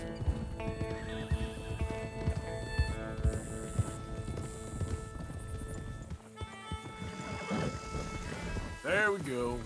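Horses in the video game Red Dead Redemption 2 whinny and snort over steady clip-clopping hooves, with a rider shouting encouragement, a loud rising neigh near the end.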